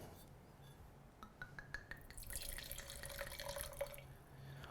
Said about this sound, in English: We're gonna pour a taste and then decant the rest of it.